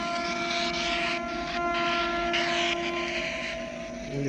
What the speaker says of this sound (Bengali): ট্রেন যাচ্ছে, একটা ট্রেন যাচ্ছে, দূরপাল্লার ট্রেন